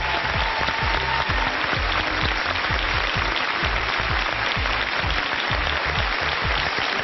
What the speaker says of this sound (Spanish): Un aplauso para el señor Emilio Estefan.